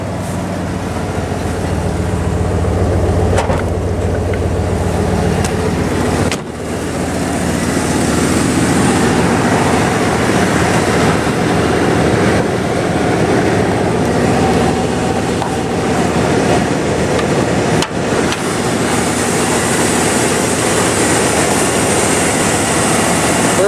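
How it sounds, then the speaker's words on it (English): A 1988 Ford F-350 XLT Lariat Centurion four-door Bronco conversion idling steadily, a loud continuous rumble close by with no speech. "Show you the engine while it's running."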